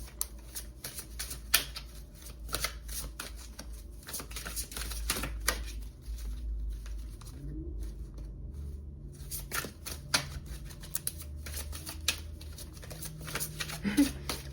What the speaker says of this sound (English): My husband hates the way I shuffle cards.